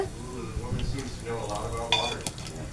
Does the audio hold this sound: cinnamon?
yes